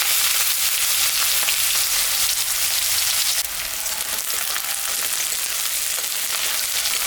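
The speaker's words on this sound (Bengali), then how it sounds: "পেঁয়াজটা দিয়ে দিলাম।" Onion frying in hot oil left over from frying fish, with dried red chilli and cumin, gives a steady, loud, dense sizzle. It runs unbroken and shifts a little lower partway through, with no voices.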